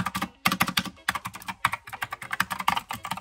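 Rapid, uneven keystrokes on an EpoMaker Skylon mechanical keyboard fitted with Gateron Yellow switches, clattering in close bursts with short pauses, no talking.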